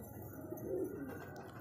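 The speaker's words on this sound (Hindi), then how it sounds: "कुछ दीवार पर बैठे हैं कबूतर" Soft, low cooing of pigeons murmuring steadily over a dull background hum, with no voices.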